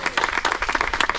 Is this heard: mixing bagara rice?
no